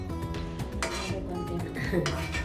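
Tomatoes being mashed with a masher in a pot while cooking a shrimp soup, soft squelching presses mixed with metallic clinks and scrapes against the pot, close by, with someone talking over it.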